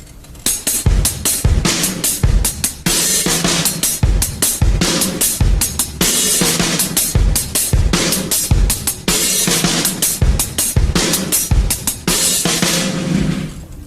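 A steady drum kit groove: punchy kick and snare hits in a regular pattern with hi-hat ticking over the top, played alone at a moderate tempo.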